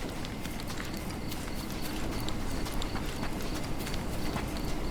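Horse hooves in the Sherlock Holmes Chapter One video game clatter in a quick, continuous trotting rhythm, dense and steady over a constant low ambient rumble.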